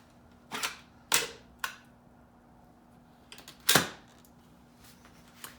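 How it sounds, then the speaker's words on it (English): Several sharp plastic clicks from a Dyson V10 cordless vacuum bin being pushed and latched shut, arriving singly and in quick pairs over a few seconds, close and crisp against a quiet room. "This will click back in place, and there'll be nice clicks with each part of the motion"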